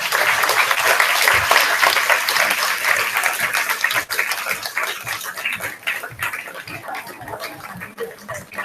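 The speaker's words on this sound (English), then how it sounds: "Please drum up some applause as Dulcie dances down the runway" Sustained applause and cheering from an audience at a kindergarten fashion show, loud at first and thinning toward the end, with scattered voices mixed in.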